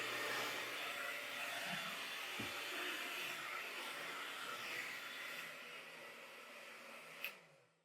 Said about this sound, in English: So I get the blow dryer.